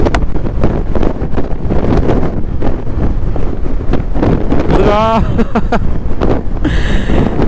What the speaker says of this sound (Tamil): காத்து சும்மா எப்படி இழுக்குது பாருங்க